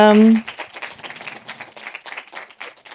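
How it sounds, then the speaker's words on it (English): An audience at a film festival applauds after a film talk, a dense patter of many hands clapping at moderate loudness following a brief tone, with voices faintly underneath. "Please give a round of applause"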